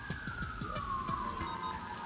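A siren from a police car or ambulance in Terraria wails with a slowly falling pitch, faint and steady beneath a stream of quick repeated game sound effects.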